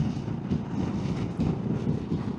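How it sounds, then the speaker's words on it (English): Steady roaring wind buffeting a helmet microphone while riding a motorcycle at around 100 km/h on the open road, loud and continuous with low rumbling gusts and no talking. "the wind noise in my ears is quite high"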